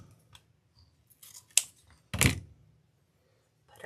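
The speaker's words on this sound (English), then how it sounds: "Put our dovetail cut on there." Scissors snipping dovetail notches into ribbon ends for a dog-themed ribbon wreath bow: two sharp close cuts, a brief crisp snip then a louder, longer one, in a quiet room with no talking.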